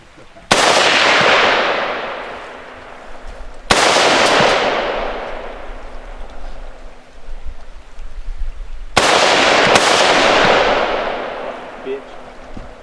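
Three loud rifle shots fired at a Tannerite target at turkey camp, each a sharp crack followed by a long booming echo that rolls away, with no talk during the shots.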